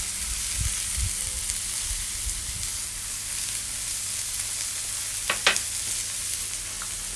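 Bacon-wrapped moink balls sizzle steadily as they cook, a continuous close, bright frying hiss with a few soft pops and a brief clatter near the end.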